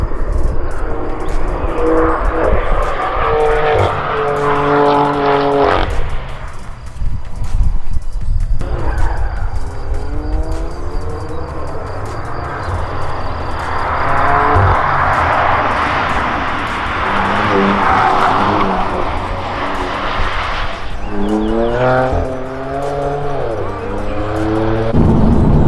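Race cars at the Tour Auto rally slide on all four wheels, their engines roaring and shifting in pitch as they pass at a distance. The sound is continuous and fairly loud, with people talking over it.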